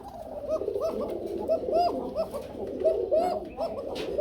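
Bombay gola pigeons at a seller's coop coo steadily, with several overlapping, rolling calls repeating close by against a soft background murmur.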